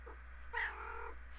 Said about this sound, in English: You gonna meow? He talks back.